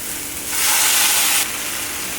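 Drained, soaked split moong dal tipped into a hot pan, giving a loud, close hissing sizzle that swells for about a second over steady background noise and then settles back down.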